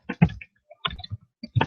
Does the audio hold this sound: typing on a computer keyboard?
yes